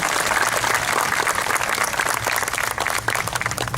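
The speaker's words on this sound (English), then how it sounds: "You can applause." Applause from an outdoor crowd at a Vietnam War monument dedication in Arcadia, a moderate, continuous patter of clapping with a low hum beneath it, steady for the few seconds heard.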